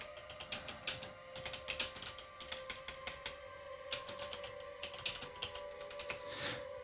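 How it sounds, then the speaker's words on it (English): Quick, irregular clicking of keys as a message is typed on a computer keyboard during a Dark Age of Camelot game session, steady bursts of taps with short pauses, faint and close, no talking. "I will be typing a little message as well."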